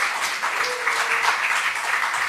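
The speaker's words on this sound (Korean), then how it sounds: "우리 수고한 우리 예배팀들 위해서 다시 한번 격려의 박수 올리겠으면 좋겠습니다" Congregation at a Korean Friday overnight worship service applauding the worship team: a full, continuous wash of clapping from many hands, fairly loud and even, with a faint tonal note briefly underneath.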